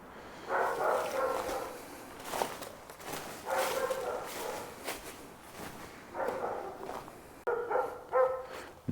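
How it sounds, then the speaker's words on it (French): A neighbour's dog barks repeatedly in irregular clusters of loud, close barks, with brief pauses between bursts across the whole stretch. "Entre le chien du voisin qui aboie comme jamais, déjà depuis maintenant 1 heure"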